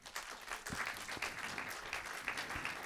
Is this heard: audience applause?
yes